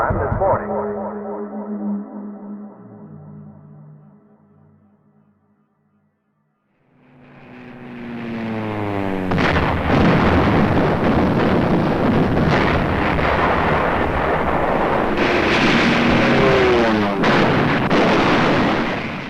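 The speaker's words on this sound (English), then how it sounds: "Anti-aircraft guns went into action against unidentified aircraft in the Los Angeles area" Over Los Angeles in wartime, aircraft drone overhead while anti-aircraft guns fire. A faint, fading rumble gives way to a loud, sustained roar with repeated sharp bursts and whooshing sweeps, heard without speech.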